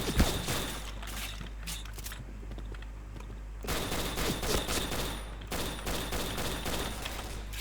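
Dense, rapid automatic gunfire from the video game Point Blank rattles almost continuously in loud bursts, briefly thinning in the middle before resuming at full intensity.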